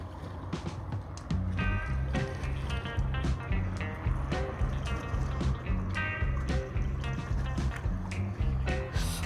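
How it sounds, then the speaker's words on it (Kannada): Steady rushing and lapping water beside the Rhine riverbank in Mainz's old town, a continuous close wash with faint dripping textures and a low rumble underneath. "ನೀರಿನ ಶಬ್ದ."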